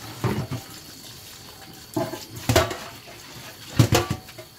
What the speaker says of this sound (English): Just run it underneath, run the vegetable underneath the cold water.